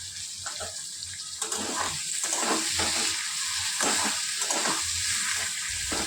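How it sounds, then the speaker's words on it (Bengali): Ash gourd pieces with turmeric stirred in a pan, giving a wet, bubbling sizzle with a watery texture and repeated scraping spatula strokes in a loose rhythm, close up, without speech. "হলুদটা দিয়ে নাড়াচাড়া করে নিয়েছি।"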